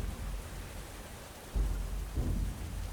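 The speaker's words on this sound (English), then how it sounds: "The rain pours down and thunder rolls." Thunder booms and rumbles in two deep swells over a steady wash of pouring rain during a storm at sea in the game Seer's Isle.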